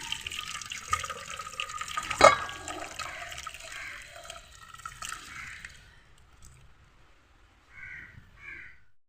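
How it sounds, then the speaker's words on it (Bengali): Cooked chital fish is tipped from a pan into a bowl, with a brief splash and slosh of liquid and a sharp metallic clink, then quieter trickling and a crow cawing faintly in the distance. "এখন গামলায় ঢেলে নিচ্ছি।"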